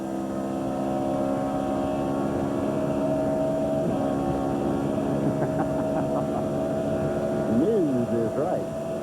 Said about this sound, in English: Listen to this shift.